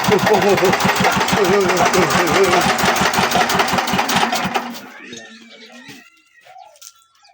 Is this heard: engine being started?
yes